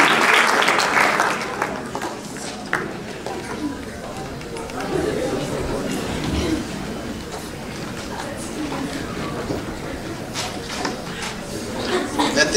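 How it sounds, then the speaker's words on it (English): An audience at a high school athletic banquet gives a round of applause, dense clapping that swells and holds with crowd chatter and some laughter mixed in, while a voice speaks over it. "Let's give a round of applause for your Student Athletic Trainers."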